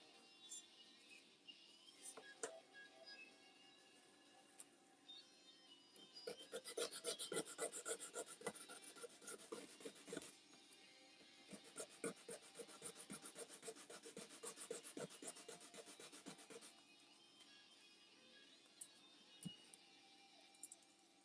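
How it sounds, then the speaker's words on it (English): A slot car guide is sanded down by hand, a dry rasping scrape repeated in short strokes, quiet at first, then a busier stretch of fast rubbing in the middle before slowing again. "I just got to sand this down until it's not catching."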